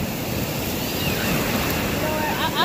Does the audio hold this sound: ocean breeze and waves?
yes